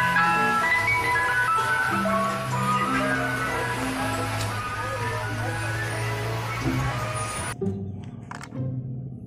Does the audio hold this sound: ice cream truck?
yes